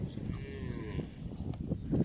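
At a cattle market a bull gives a low, drawn-out moo close by, over a busy background murmur and scattered bumps.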